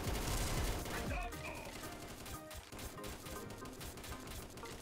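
Gunfire in the shooting game XSHOT, a dense, continuous stream of shots at moderate loudness, mixed with game noise and faint talk underneath.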